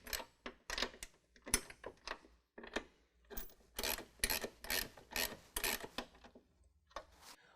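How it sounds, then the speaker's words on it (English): A wrench and ratchet snug nylock nuts onto a nerf bar bracket on a 2019 Dodge Ram 1500, giving a string of short, close, rasping clicks and scrapes in irregular bursts. "we're going to have to use a wrench and ratchet to get those kind of snug into place"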